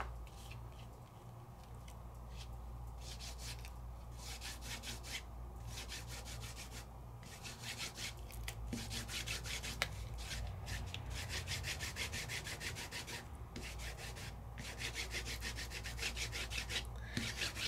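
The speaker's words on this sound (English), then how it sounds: "And I'm just wiping it right across." Dark red ink is wiped back and forth across an embossed non-porous surface, making rhythmic scratchy rubbing strokes, close and quiet, repeating steadily for over fifteen seconds with no talk.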